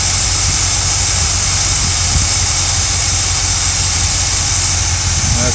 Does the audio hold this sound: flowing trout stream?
no